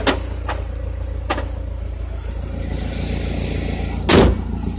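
A 1995 Ford Ranger XLT engine idles with a steady low rumble, close by, broken by a few sharp clicks or knocks and a louder thump near the end.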